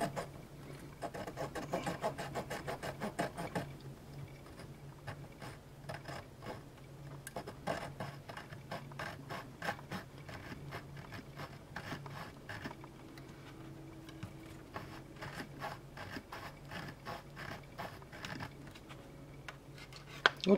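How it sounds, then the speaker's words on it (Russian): A small tube is sawn in a JLCP006 mini bevel trimming tool for round profiles, giving quick rhythmic rasping strokes at close range, fairly quiet and steady with short pauses between bursts. "Ну, потом начинаем пилить."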